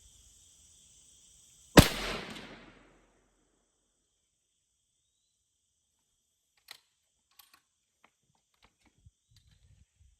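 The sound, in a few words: subsonic 300 Blackout rifle shot at milk jug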